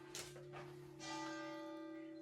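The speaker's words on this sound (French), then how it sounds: "Wow, la cloche." A church bell rings at noon inside an abandoned manor, a soft, distant chime with a long sustained ringing tone that follows a few faint rustles.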